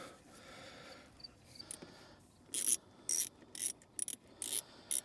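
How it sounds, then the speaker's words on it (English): A metal hose clamp is worked onto a pool hose outdoors in a puddle, giving a series of sharp, close ratcheting clicks and scrapes in irregular bursts, with no talk. "This clamp doesn't want to fit over the top of it."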